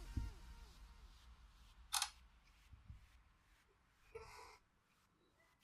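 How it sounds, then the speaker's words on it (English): An Infinix Hot 7 Pro smartphone takes a portrait-mode selfie, giving two brief, soft shutter clicks a couple of seconds apart against a quiet room background. "Let's take a portrait selfie because it has another camera for portrait mode."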